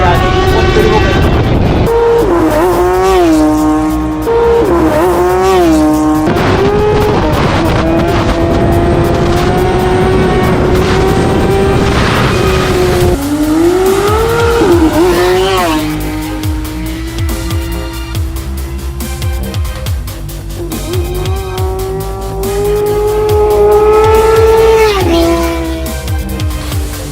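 A Kawasaki Ninja superbike and a supercar in a drag race, loud sustained engine roar with rising and falling gear-change pitch sweeps, recorded close over the whole stretch.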